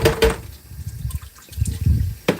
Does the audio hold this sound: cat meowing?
no